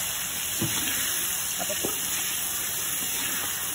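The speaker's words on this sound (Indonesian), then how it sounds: "Kita goreng dia jangan sampai sampai garing lah." Chicken pieces frying in hot oil for nasi beriani give a continuous, loud hiss and sizzle close up, with a brief question spoken over it.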